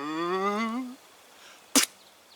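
A wild turkey gobbler in the spring woods gives a single sharp, brief spit burst nearby after a wavering harmonic call fades out; no low drumming hum stands out.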